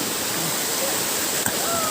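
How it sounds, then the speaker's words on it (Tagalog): Mambulo Nuevo waterfall at Sitio Purikot in Libmanan, a steady broadband rush of falling water that fills the clip evenly, with a brief splash or knock near the end. "ito po ang isang falls ng bayan ng Ligmanan kung saan ho ay pang-apat na falls"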